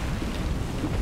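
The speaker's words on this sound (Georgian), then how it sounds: "წყლის ხმა გესმის?" Rushing, rain-like water noise from a Fortnite live event, a steady broadband wash with low rumbling, moderately loud and continuous, with no talk over it.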